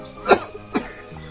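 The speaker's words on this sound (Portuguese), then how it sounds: "só arruma com essa tosse desse jeito aí" Two sharp, hoarse coughs from a man in a countryside setting, a short gap between them, the second slightly weaker, with no other sound around.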